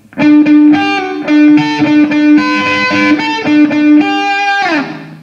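An overdriven electric guitar plays a slow riff from a song with a repeated low note between higher notes, ending on a sliding bend.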